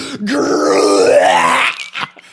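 A voice imitates someone throwing up, a loud, close, drawn-out retching groan that rises in pitch before breaking off.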